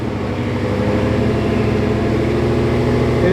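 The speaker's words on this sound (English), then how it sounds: "He's about to give it a start up right now." A 2014 Mustang GT V8 running through a quiet muffler exhaust setup, a steady, loud, deep droning rumble heard close and continuous without talk.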